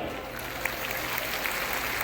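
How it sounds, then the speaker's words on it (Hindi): Dense applause from a crowd, steady and continuous for a couple of seconds. "इसके लिए जोरदार तालियां।"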